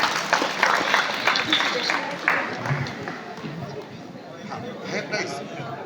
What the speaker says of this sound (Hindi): जोरदार बच्चों तालियां बजा देते हैं।